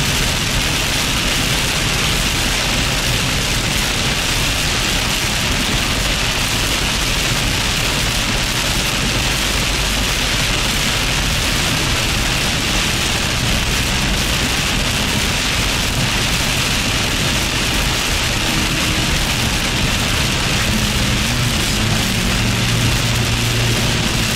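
Heavy rain from a Carolina storm drums steadily on a car windshield, a dense continuous patter heard from inside the vehicle.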